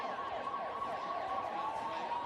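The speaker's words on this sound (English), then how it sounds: "Okay, so Warren, we're being told we can hear that siren." A steady siren wails at a PBR bull riding event in Orange, Australia, signalling a rider's challenge; a continuous tone with a slight wavering pitch holds loud and unbroken throughout, with no voices over it.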